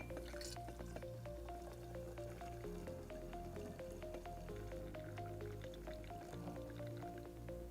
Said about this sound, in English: We pour this mixture in a measuring cylinder.